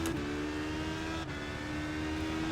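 Steady race car engine drone at Laguna Seca in the iRacing simulator, a sustained, even-pitched hum for the whole span with a slight rise at the end and no talking.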